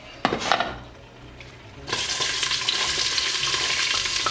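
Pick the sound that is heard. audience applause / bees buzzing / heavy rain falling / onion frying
onion frying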